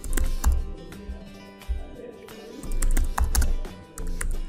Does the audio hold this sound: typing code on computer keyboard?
yes